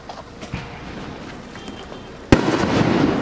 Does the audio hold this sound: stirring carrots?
no